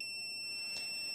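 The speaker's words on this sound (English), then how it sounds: "the beep will give me audible feedback" A Klein non-contact voltage tester gives a short, high-pitched electronic beep once over a quiet background hum.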